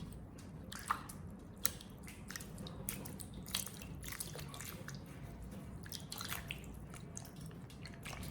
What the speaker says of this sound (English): Gently rinse the entire bunch to remove dirt and leftover ripening agents.